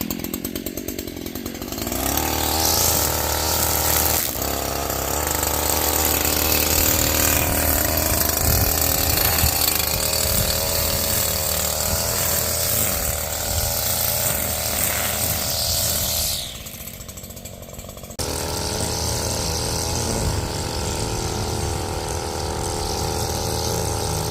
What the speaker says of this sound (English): That's a true 2-stroke right there, so they do need to warm up.